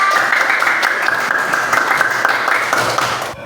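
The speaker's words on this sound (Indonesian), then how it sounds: "kasih tepuk tangan untuk 3 kelompok" A classroom of pupils gives a loud, steady round of applause for three student groups, close and continuous before cutting off abruptly.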